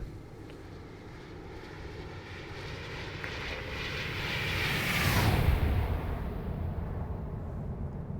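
An Airbus A320neo with CFM LEAP-1A engines roars past in a flight simulator, a broad rushing drone swelling to a peak around the midpoint with a falling whine, then easing off as it recedes.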